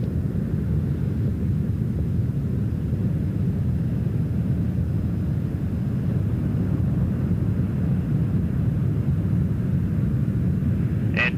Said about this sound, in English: Three engines on Endeavour are now throttling back to two-thirds throttle